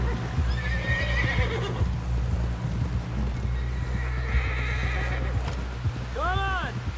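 A horse in Red Dead Redemption 2 gallops with steady rhythmic hoofbeats, then lets out a loud close whinny near the end, with wind and movement noise throughout.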